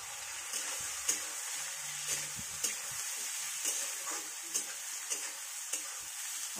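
Potatoes, onions and masala fry in a pan, a soft steady sizzle broken by regular clicks and scrapes of stirring, fairly quiet and close, with no talking.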